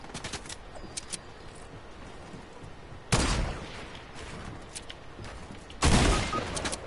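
Video game gunfire with two loud, sudden bursts of rapid shots breaking over quieter background clatter and scattered distant pops.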